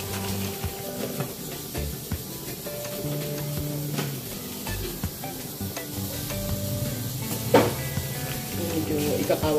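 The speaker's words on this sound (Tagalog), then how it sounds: "Kumukulo na siya" Tilapia broth boiling in a pot on a lowered flame, a steady close bubbling hiss that runs throughout, with faint voices now and then in the background.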